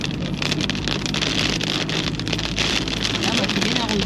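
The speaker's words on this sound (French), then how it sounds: "On reçoit la pluie." Steady rain pours in Angola after a long dry spell, a dense continuous patter of drops on surfaces, loud and close, with faint vehicle noise beneath.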